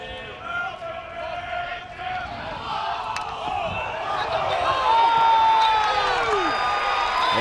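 A college baseball crowd at a Georgia vs Tennessee game calls out for a balk, a broad roar of shouting that swells toward the end under an announcer's ongoing commentary.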